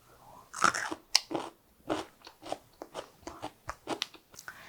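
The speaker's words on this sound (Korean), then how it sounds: "제가 2주 동안 두었기 때문에 이 마늘을 한번 먹어보도록 하겠습니다." Close crunchy bites and chewing of vinegar-pickled new garlic cloves, a sharp crisp bite followed by a steady rhythm of quieter chews, with no talking.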